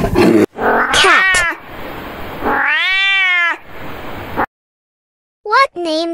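A cat meows several times, including a long, loud yowl, with short sharp mews at the start and again after a silent gap.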